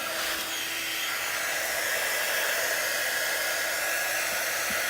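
A hair dryer blows steadily on a printed tea towel, a loud, constant whooshing hum that runs unbroken from start to finish with no voices.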